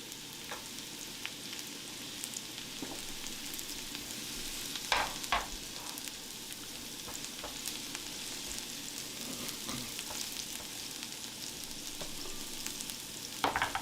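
Garlic and ginger fry in a pan over maximum heat on a powerful burner, making a constant dense sizzle with scattered crackles and a few louder stirring scrapes near the middle and end.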